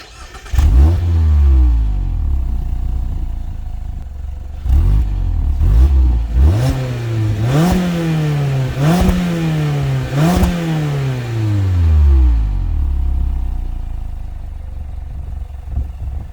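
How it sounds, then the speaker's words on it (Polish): Mazda MX-5 ND with a 2.0 Skyactiv-G inline-four and six-speed manual, its exhaust rumbling loudly through repeated revs and upshifts, each pull rising in pitch before dropping back to a low idle burble. "wydech już naprawdę ładnie i naturalnie mruczy"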